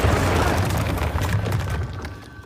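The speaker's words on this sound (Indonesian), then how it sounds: "Sontak Carter cepat-cepat menyelamatkan Hana dari ledakan." Bomb explosion in an action film as an agent rescues someone from the blast: a deep, sustained rumbling boom with broadband debris roar that slowly fades over a couple of seconds.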